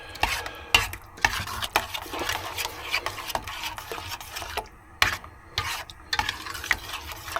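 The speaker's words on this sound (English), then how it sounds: "so I'm going to give it a good stir now." A spoon stirs spices into a curry in a pan, cooking in a camper van: repeated scraping and clattering strokes with brief sharp knocks against the pan, close and fairly loud over a soft sizzle.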